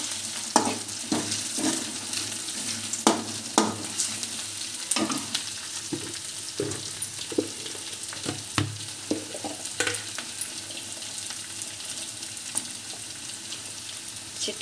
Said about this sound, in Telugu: బాగా ఆరెంజ్ కలర్ వచ్చేదాకా వేయించుకోవాలి ఆనియన్